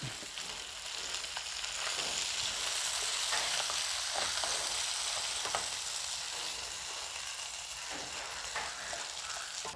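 Mackerel shallow frying in oil in a pan, a continuous dense sizzle and crackle heard up close, with faint stirring or turning noises now and then.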